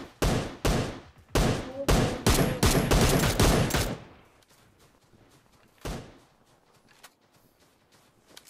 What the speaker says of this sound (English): that's who they're shooting at.